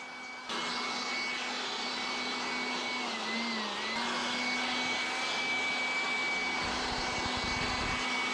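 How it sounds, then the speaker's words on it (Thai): A steady, loud rush of air from a blower clearing dust out of an air conditioner, with a constant whine holding throughout and a brief pitch wobble partway. "เดี๋ยวเราไปเป่าฝุ่นแล้วกันครับ"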